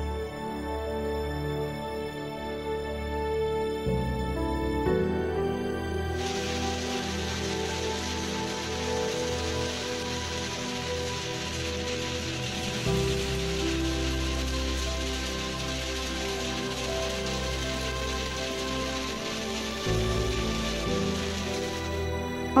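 Steady rain patters and hisses throughout, heard under a continuous musical background.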